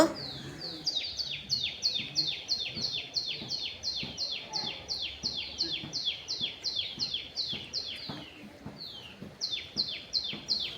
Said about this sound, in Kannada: ಇಲ್ಲಿ ಕೇಳಿಸತ್ತೆ ನೋಡಿ ಹಕ್ಕಿಗಳ ಸೌಂಡು